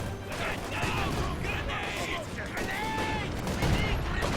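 A dense battle from the video game Company of Heroes 2 rumbles steadily with artillery barrage and gunfire, mixed with shouted voices and radio-like tones, a continuous loud wash of combat.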